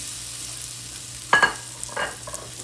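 Cinnamon French toast frying in a pan on low heat, a soft steady sizzle with a couple of brief louder spits and clinks as the bread goes in.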